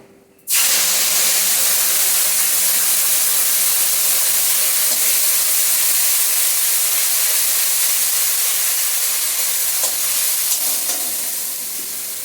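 A loud, steady sizzle of water-thinned spice paste hitting a hot pan while cooking a potol dhokar dalna curry, starting abruptly and holding a dense, even hiss close up for the rest of the clip with no talk.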